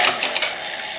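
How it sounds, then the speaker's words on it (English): Bicycle freewheel with a sticky ratchet mechanism clicking as the wheel spins, giving a dense, close, bright mechanical ticking and whirring that runs steadily for about a second with no talking. "Oh, it's a freewheel, not a free hub."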